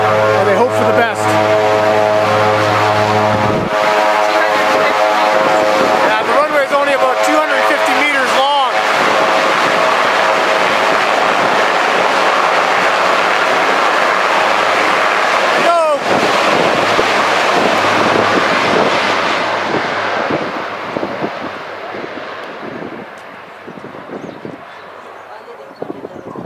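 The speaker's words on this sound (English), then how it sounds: "So they rev the plane up, they keep the brake on nice and hard, and then they release the brake, and they hope for the best." An airplane on the short Lukla runway roars loudly as its engines rev and it accelerates for takeoff, a sustained broadband rush with wind buffeting that eases toward the end while a voice talks.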